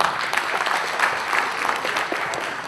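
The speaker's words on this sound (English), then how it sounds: "Can we have a round of applause for..." An audience at the ACCA Indonesia grand launching event applauds with continuous, moderately loud clapping that holds steady from start to finish.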